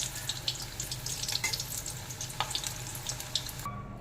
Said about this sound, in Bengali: কোফতাগুলোকে দিয়ে ভেজে তুলে নেব।